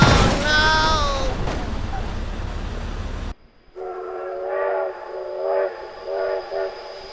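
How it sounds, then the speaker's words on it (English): A train horn sounds in the BeamNG video game, a loud wavering blast under excited talk, followed after a brief cut by a steadier, pulsing horn tone with several swells. "Oh my god, train!"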